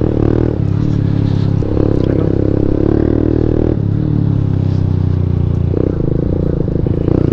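Motorcycle exhaust droning steadily while riding through city streets, a loud continuous low rumble with a few gear-change shifts in pitch and no pauses.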